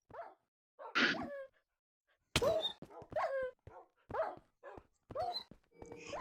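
Dog in the Minecraft video game giving a string of short, sharp barks and yelps, loud and close, with a few whimpering notes between them and no talk over them.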